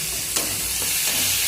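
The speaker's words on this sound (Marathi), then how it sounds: "आपल्याला अजून एकदा फिरून घ्यायचं थोडंसं मीडियम फ्लेमवर" Prawns, tomatoes and onions sizzle in a pan over medium flame while a utensil stirs them, steady hiss with a few scraping strokes close by.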